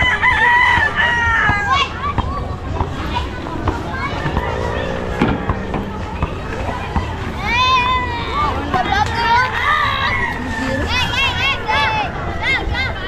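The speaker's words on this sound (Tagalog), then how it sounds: "May mga manukan din dito oh." Roosters crow repeatedly and chickens cluck around a coop in Sitio Camansi, a crowded slum on Mactan in Cebu, loud and close, mixed with voices talking and general neighbourhood babble throughout.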